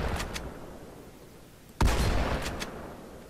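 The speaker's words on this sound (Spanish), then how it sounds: "primero vamos a probar el de la escopeta" A shotgun blast from the Halo 4 video game: one sudden loud boom that lingers with a tail, following a quieter stretch of faint game noise.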